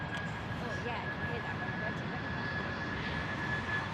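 An American Airlines Boeing 777 taxiing at Heathrow gives off a steady, distant jet engine whine and rumble, with a thin sustained tone over the drone and voices speaking in the background.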